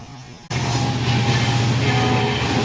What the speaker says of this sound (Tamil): ராமேஸ்வரம் தாம்பரம் போகிற ட்ரெயின் தான் வேகமாக வந்துக்கிட்டு இருக்கு.